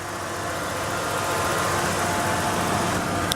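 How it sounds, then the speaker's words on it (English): Car engine idling smoothly and evenly, a steady close-up hum with no variation and no voices. "it just hums right along. It's just smooth idle."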